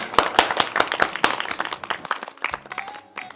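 A small audience claps in sharp, uneven bursts that thin out over a few seconds as a voice begins to speak.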